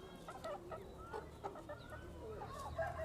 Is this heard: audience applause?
no